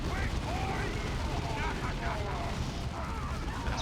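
Heavy bolters firing in Dawn of War 2 during a battle to retake a hamlet, a continuous loud rumbling barrage mixed with unit voice lines.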